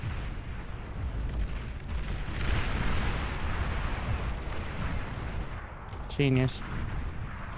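Artillery fire in the real-time strategy game Beyond All Reason rumbles as a dense, continuous barrage of booms throughout, with a brief sharp electronic burst near the end and a short spoken word over the battle noise.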